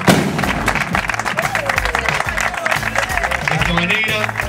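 Applause from a crowd gathered at the opening of a five-a-side football pitch, a dense steady clatter of clapping mixed with thumps and a voice speaking over it.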